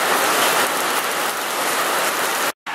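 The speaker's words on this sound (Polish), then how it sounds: "pada grad i wali dość mocno" Hard hail pours down during a storm near Wisła Czarne, a loud, dense, continuous hiss of pelting ice that cuts off abruptly near the end.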